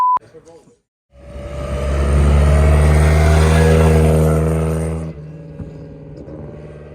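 A classic car engine at an open day cranks, catches and revs up loud and close, holds a steady roar for several seconds, then drops back to a rough idle.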